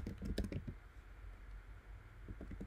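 Typing on a computer keyboard, a short quick burst of soft key clicks, then quiet, then a few more taps at the end.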